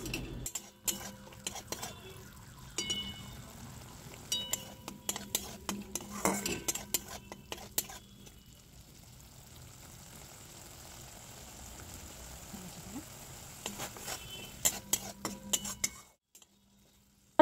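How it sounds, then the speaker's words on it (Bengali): Spiced masala being stirred in a cooking pan for a vegan okra dish, with intermittent scraping and clinks of a metal spoon against the pan, bursty for the first half, a quieter stretch in the middle, then more stirring before it stops. "এইভাবে যখন মশলার উপরে তেলগুলো ভেসে উঠবে, তখনই বোঝা যাবে যে মশলাটা কিন্তু কষানো হয়ে গেছে।"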